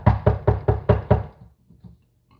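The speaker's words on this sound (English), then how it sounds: "knocking on the door" Six quick, evenly spaced knocks rap loudly on a door, followed by a few fainter, quieter taps as the sound dies away, with no talking.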